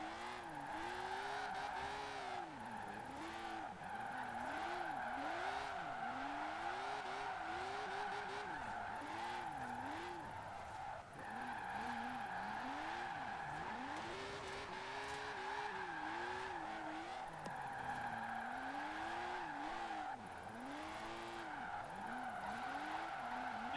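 A race car slides sideways in a long drift, tires squealing in repeated wavering bursts over a droning engine that rises and falls with throttle, continuous and fairly loud throughout.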